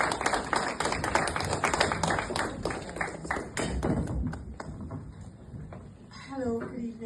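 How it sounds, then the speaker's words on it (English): A room full of people claps to welcome a special guest to the stage at the Dylan Bennett Awards, with dense, steady applause across the whole stretch, thinning slightly near the end. "Can we just have a round of applause and welcome our special guest to the stage"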